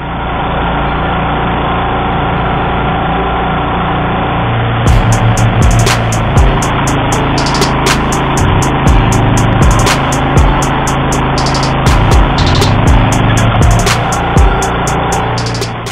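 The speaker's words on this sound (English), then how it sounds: "And up there, Randy's using the 2002 DR brush and field mower, model AT2." A 2002 DR field and brush mower, model AT2, runs steadily outdoors on rough, uneven terrain. Its loud, continuous engine drone holds throughout with a repeating higher-pitched clatter layered on top, and no voices are present.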